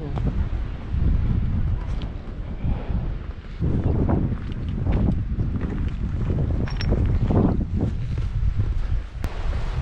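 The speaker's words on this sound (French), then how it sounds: "il y a un petit vent qui fait vraiment du bien là" Strong mountain wind in the Mercantour buffets the microphone the whole time, a loud rumbling roar that rises and falls in gusts, with a hint of surf behind it.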